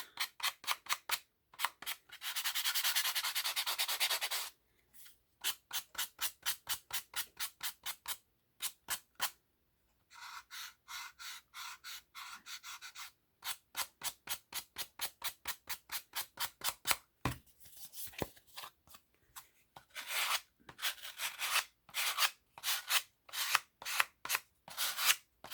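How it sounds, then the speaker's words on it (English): A card's edge is distress-inked with rapid, dry scratchy dabs and rubbing strokes, close and quiet, coming in quick bursts of taps separated by short pauses. "distress inking this edge"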